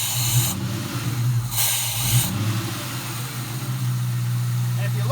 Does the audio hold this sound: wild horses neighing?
no